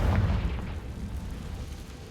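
A Confringo fire spell explosion in the Hogwarts Legacy video game, a deep boom with a rumbling tail that fades over about two seconds, loud and close, with no talk.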